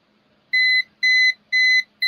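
Visual countdown timer alarm sounding a steady, evenly spaced series of loud electronic beeps, each about a quarter second long, alone without talk.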